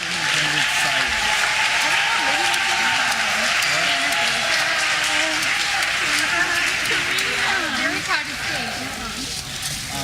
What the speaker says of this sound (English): Let's have a round of applause for all of those on the headmaster's list.